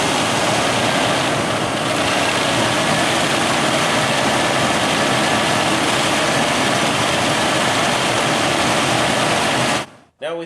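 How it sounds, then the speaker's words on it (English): An engine with a bad cam sensor in the distributor runs just off idle, making a dense, loud, continuous roar that holds steady for about ten seconds before cutting out abruptly. "So when we'd raise it off idle just a little bit, that's when we would start getting our miss."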